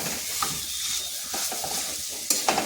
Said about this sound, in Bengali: এবার ভালোভাবে মশলার সাথে মিশিয়ে নিচ্ছি